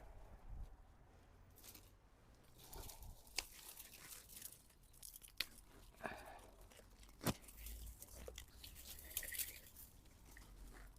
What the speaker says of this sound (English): A lot of these I'm just literally pulling up and they're falling to pieces as I try to put them in the bag.